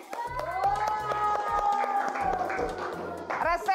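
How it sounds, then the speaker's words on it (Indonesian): Indonesian classroom children clapping for a classmate named Dante, a short burst of scattered applause and cheering that runs under a teacher's continuing speech and fades after a few seconds. "Tepuk tangan dong buat Dante."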